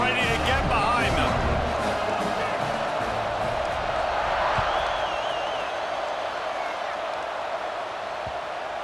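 A big home crowd roars at a Texas A&M football stadium before a kickoff, a steady, loud wash of cheering and whooping that holds for the whole stretch, with an announcer's voice over it.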